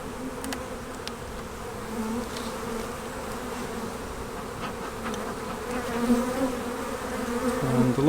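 Honey bees hum on frames lifted from a nuc box during transfer into a Maisemore commercial poly hive, a close, steady droning buzz that swells slightly toward the end, with no talking.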